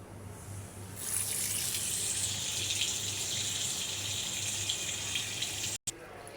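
Tap water runs steadily into a sink as pabda fish are rinsed, a close, even gushing stream that starts after a moment and continues with a brief break near the end.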